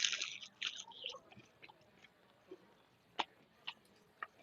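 Crunchy food being chewed during a taste test, with several loud crunches at the start followed by a few sharp, isolated crunches spaced out over quiet background.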